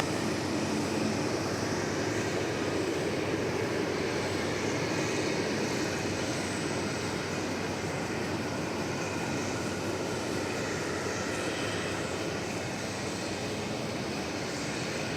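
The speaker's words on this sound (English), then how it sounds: "So the Delta flight getting ready to blast off here." Delta Airbus A320 spooling up for takeoff at DFW Airport, bound for Salt Lake City, a loud continuous broadband jet roar holding steady throughout with no talk.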